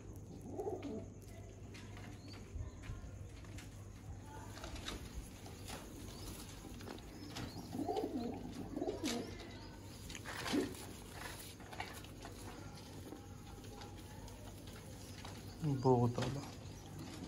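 Sialkoti pigeons coo softly in short low phrases, faint and intermittent against quiet background noise, with a few brief clicks and rustles, strongest near the end.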